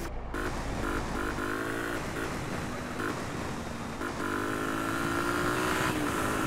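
Yamaha XTZ motorcycle ridden in the video game GTA, a steady engine drone with rising and falling pitch sweeps as it accelerates and shifts, loud and continuous throughout with no talking.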